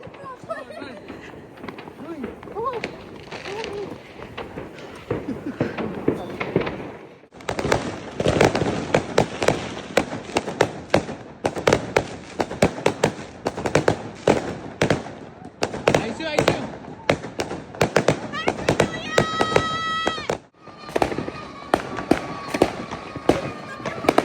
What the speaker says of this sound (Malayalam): ഒരു 11:30 വരെയൊക്കെ ഇങ്ങനെ കുറച്ച് അവിടെ ഇവിടെയൊക്കെ ഇങ്ങനെ ഫയർ വർക്ക്സ് ഉണ്ടാവാന്നേ ഉണ്ടായിരുന്നുള്ളൂ